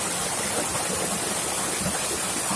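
A waterfall on the Nutts River in St Thomas, Jamaica, falls by an old stone dam and bridge, giving a constant, close, dense rushing roar with no pauses or voices.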